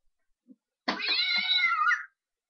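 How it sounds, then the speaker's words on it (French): A Monster High toy plays a single recorded cat meow, clear and drawn out for about a second, following a couple of faint clicks in otherwise quiet surroundings. "Ou sinon, parce qu'il y a autre chose aussi,"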